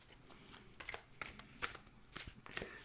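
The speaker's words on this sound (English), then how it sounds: "you can see that I'm doing an overhand shuffle" A deck of playing cards is given an overhand shuffle, making a series of soft, crisp riffling slaps in an uneven rhythm, quiet and close.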